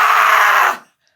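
A single loud, close human scream, held steadily for under a second before cutting off into silence.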